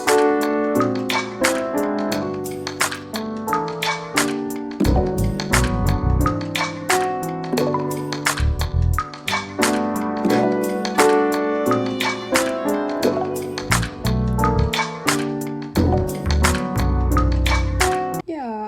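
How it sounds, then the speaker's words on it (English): A piano melody plays over a steady beat of sharp, crisp claps hitting at regular intervals, full and continuous with no talking. "I decided to use a piano melody together with a very crisp clap"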